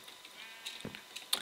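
Sheep in a survival video game bleat in short, quiet bursts, a couple of faint calls over a soft background, with no other sounds on top.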